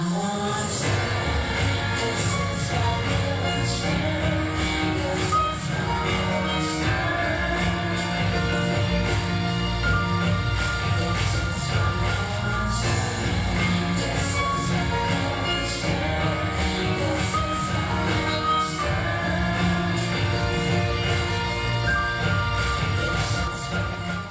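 Dense electronic music plays continuously at a steady loud level, with layered synth tones and a full low end throughout.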